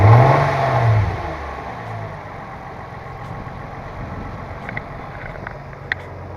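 An Infiniti G35 Coupe engine revs up to about 3000 RPM, a brief loud rise in engine note at the start, then settles back to a steady idle with a few faint clicks.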